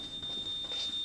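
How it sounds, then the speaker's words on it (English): A smoke alarm sounds steadily indoors, a continuous high electronic tone held throughout at moderate loudness with faint room noise beneath. "Do you know your smoke alarm's going off?"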